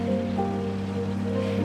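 Rain in the video game South of the Circle, set near Cambridge: a steady, even patter of rain on surfaces under a sustained low musical drone, with no talking.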